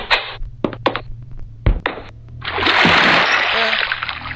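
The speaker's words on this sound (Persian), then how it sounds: "تو آب افتادم." A Minecraft player falls into water, and a loud, sustained game splash rushes in after a few short clicks and thumps.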